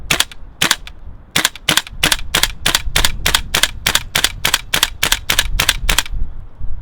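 A GHK Colt M4 gas blowback airsoft rifle on a green gas magazine fires about seventeen sharp, loud cracks in quick uneven succession, each shot snapping close and alone with a faint hiss between.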